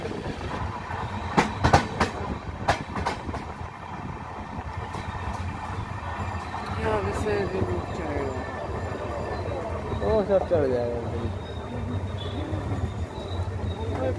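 Passenger train running just after pulling out of Raniganj, a continuous rumble of wheels on rails with a few sharp clanks early on, heard from inside the carriage while someone talks over it.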